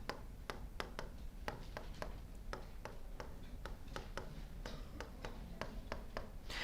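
A marker taps and strokes on a whiteboard during a chemistry lesson, making regular sharp tics and short squeaks over a low room hum.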